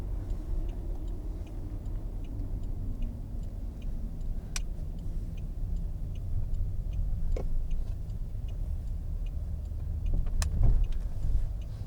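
A 2004 Chevrolet Malibu Maxx on the road, heard from inside a passing car as a steady low engine and road rumble with occasional faint ticks and clicks and no talk.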